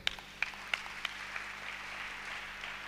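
A church congregation applauding to acclaim the Lord, giving a brief spread-out clapping with a few sharper claps at the start.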